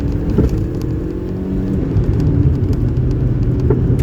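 A small Suzuki Alto car accelerates hard in second gear, its engine revving loud and close with a steady rising drone and road rumble throughout.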